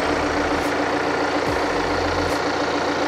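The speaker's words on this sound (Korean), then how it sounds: "엔진 소리 일정하고 좋습니다" A BMW 2 Series Active Tourer runs at idle with the engine bay open, giving a steady, even hum and low drone that stays constant and close, with no voices over it.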